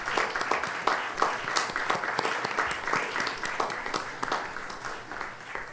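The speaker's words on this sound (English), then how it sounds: "Please join me in recognizing them with a round of applause." A crowd applauds steadily, many hands clapping in a dense, sustained wash that holds for several seconds before easing slightly at the end.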